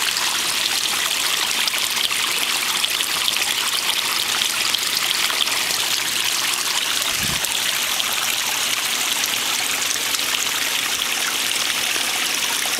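Water trickles over a slate edge in a small backyard pond waterfall, a steady close-up hiss of flowing water that runs without pause and stays even in loudness.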